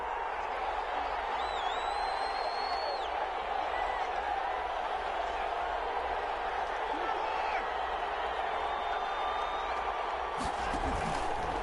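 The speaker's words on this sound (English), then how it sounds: "Well, this crowd does not like that call." Crowd noise in a PS4 American football video game, a steady broad roar of a disapproving stadium audience after a call, held at an even level throughout with a commentator voice faintly mixed in.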